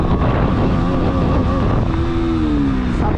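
KTM Duke 125 motorcycle accelerating hard in second gear, engine note rising steadily under heavy wind buffeting on the microphone, loud and close.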